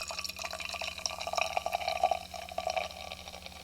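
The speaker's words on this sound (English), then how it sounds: "Going for the pour." Untitled Art Rice IPA beer pouring into a glass, a steady liquid gurgle and splash of moderate loudness lasting a few seconds, heard alone without talk.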